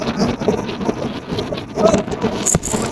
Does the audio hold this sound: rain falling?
yes